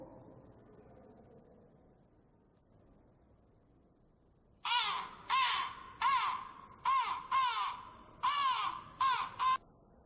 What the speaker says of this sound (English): Now, what is the sound of crow?